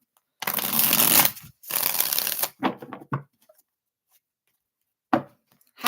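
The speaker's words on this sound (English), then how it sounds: "Let's do 2 more shuffles for JoJo." Tarot cards shuffled in two long riffling bursts, followed by a few short card taps and shuffles, close and crisp, with no speech.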